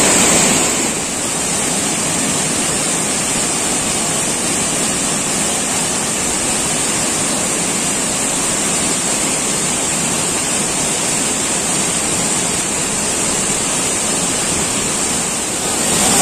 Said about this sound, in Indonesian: nah ini dia ya, air terjun Lubuk Hitam tingkat 3.